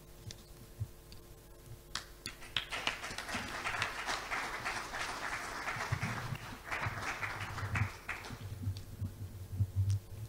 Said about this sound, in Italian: L'applauso è meritatamente dedicato proprio alla Manuela Mazzolini